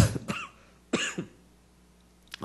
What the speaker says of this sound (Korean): 지금 목 상태가 안 좋아서 기침이 좀 나오는데